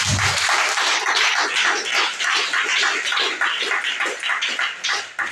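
A church congregation applauds its pastor in a dense, sustained burst of clapping that swells and dips in waves for several seconds, loud and close.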